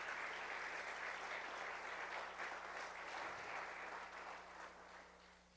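A church congregation claps together in sustained, fairly distant applause that stays even and then gradually tapers off toward the end.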